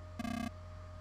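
A single short electronic beep from a robot in the video game Energy Breaker, a bright steady tone lasting about a third of a second over a low background hum.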